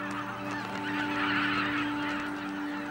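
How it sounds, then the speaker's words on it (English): A flock of snow geese on the autumn Arctic tundra near the coast of Wrangel Island, honking in a dense, continuous chorus of overlapping calls at moderate volume, with no voices. "the snow geese prepare to leave."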